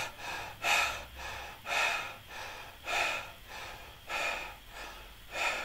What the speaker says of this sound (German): Kommt, wir aktivieren es mal und hecheln.